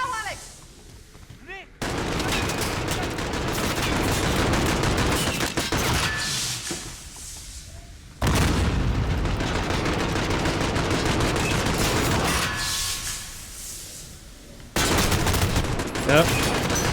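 Turret machine-gun fire in Call of Duty: Modern Warfare, long loud sustained bursts of rapid automatic shots broken by brief pauses, dense and close, with voices faintly underneath.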